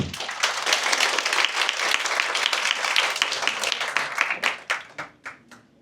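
Audience applause, many hands clapping steadily, then thinning out into a few scattered claps before fading.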